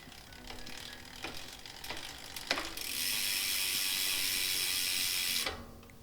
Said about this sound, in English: give it a quick little pedal here